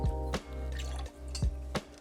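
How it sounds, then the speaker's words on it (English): Lemon juice, simple syrup and green chartreuse are poured in measured splashes for a cocktail, with a steady close liquid stream broken by a few short drips and splashes, no voices. "we're gonna add 3/4 ounce lemon juice, 1/2 ounce of simple syrup, 1/2 ounce of green chartreuse"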